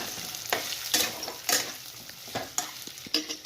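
Brinjal frying in a pan with onion, garlic and ginger hisses under repeated spatula strokes, giving a run of scraping, clattering stirs at an uneven rhythm.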